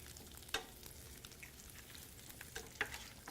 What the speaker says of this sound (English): While you're sauteing that